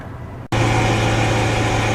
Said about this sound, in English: that exhaust sound of the Hemi is so sweet